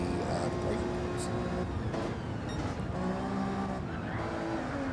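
A race car spins out at Bathurst in a racing video game, with a sustained engine drone and a brief tire squeal. A commentator talks over the scene.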